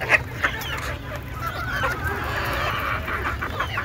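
Native chickens feeding on cabbage leaves cluck and squawk softly in short scattered calls over a low steady background hum.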